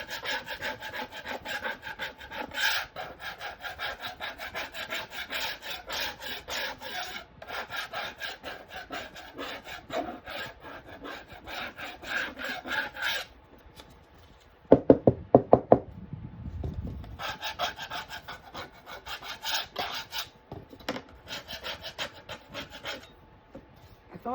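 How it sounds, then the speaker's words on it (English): A cheap Dollar Tree paint scraper rasps back and forth over a painted wooden sign board in steady, close scraping strokes, with a short pause and a few sharp knocks near the middle before the scraping resumes. "we're just going to go over it and scrape until we get the effect we want"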